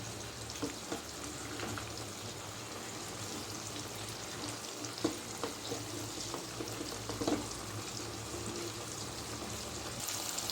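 Bitter gourd pieces fry with salt in a pan on the stove. A faint, steady sizzle runs throughout, broken by small stirring clicks and scrapes.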